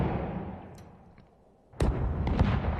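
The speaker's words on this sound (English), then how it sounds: "get a lot of variations from these cannon tracks that I found" Pirate-ship cannon blasts: a heavy boom opens, fades into a rumbling tail, then a second sharp blast with quick following bursts lands near the end, loud and reverberant.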